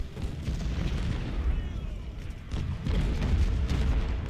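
Cannon artillery fire from the Civil War strategy game Ultimate General: Civil War, heavy low rumbling booms rolling continuously with louder surges around the middle and end, dense battle din without clear gaps.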